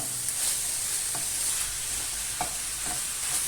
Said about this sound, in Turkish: Şöyle güzelce kavurayım